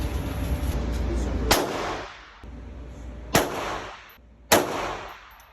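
Three sharp gunshots ring out at a shooting range, loud and close, each with a booming decay and spaced unevenly about a second or two apart.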